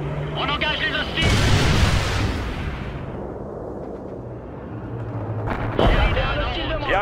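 Artillery barrage in the World in Conflict war game: heavy booming impacts and blasts erupt at the start and again near the end, with sustained rumbling battle noise between.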